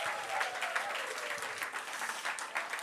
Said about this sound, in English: Give Spit a round of applause.